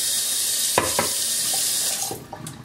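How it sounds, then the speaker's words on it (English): Cold water runs steadily from a tap into a glass at a sink, a continuous close hiss with a few brief splashes and gurgles as it fills, tapering off near the end. "and I fill it up with cold water."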